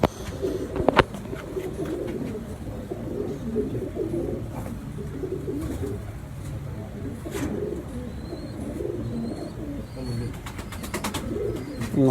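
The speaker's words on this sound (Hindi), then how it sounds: "ये मेरे सलारे कबूतर जिनको बोलते हैं" Salara pigeons on a rooftop loft, low soft cooing repeated throughout, close and moderately loud, with a few sharper clicks and light background noise.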